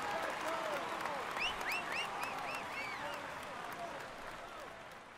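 Sustained applause from a large crowd at a cycling race stage, dense and even, with whistles arcing above it and a voice talking faintly underneath.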